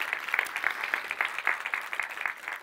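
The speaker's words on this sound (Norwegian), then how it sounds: "Det faktisk vært en applaus." Cinema audience applauding at a Norwegian film premiere of Kampen om Narvik, a dense, even patter of many hands clapping, moderately distant, with no voices over it.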